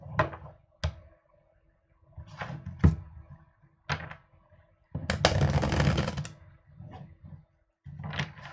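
Tarot cards being shuffled by hand: scattered soft slaps and taps, then a brisk continuous riffle of about a second, followed by more light card handling, all close and without speech.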